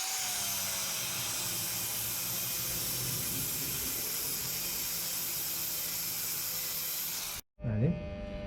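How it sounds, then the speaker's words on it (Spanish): A steel wire brush scrubs slag off a flux-core weld bead in a dense, steady scratching hiss that runs for about seven seconds, then stops abruptly before a short burst of low voice. "Ahora nosotros le vamos a pasar un cepillo de acero"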